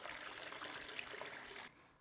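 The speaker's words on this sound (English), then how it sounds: "I'm going to pour this into our mason jar" Homemade toddy is poured into a mason jar, giving a steady, close trickle and splash of liquid that runs for under two seconds before cutting off, with no voices.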